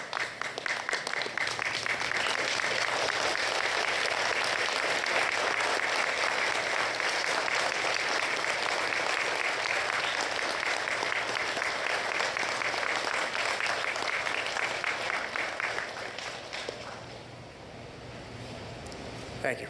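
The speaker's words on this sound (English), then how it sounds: "Graduates, as is our graduation tradition, I would like you to stand, turn and face your loved ones, and offer a round of heartfelt applause." Graduates at a Marine Institute convocation give a sustained round of applause for their loved ones, a dense, steady roar of clapping filling the hall before fading near the end.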